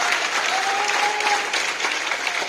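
An audience at a motivational seminar breaks into steady, dense applause, a continuous wash of many hands clapping at even loudness throughout.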